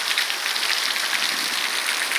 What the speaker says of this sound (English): It rains and pours, everybody.